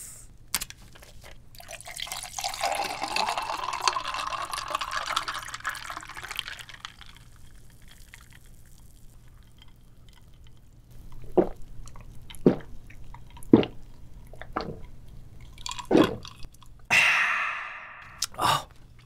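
Grapefruit juice is poured and then sipped at a seafood-boil meal, with a long close liquid pour followed by a few short, sharp gulping and clinking sounds with no talk.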